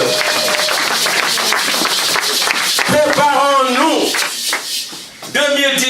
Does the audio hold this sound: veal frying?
no